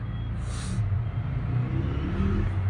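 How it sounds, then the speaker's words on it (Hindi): Road traffic on a hill route, a steady low rumble of vehicle engines close by, with a short hiss near the start. "हर जगह ट्रैफिक।"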